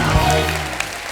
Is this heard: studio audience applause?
yes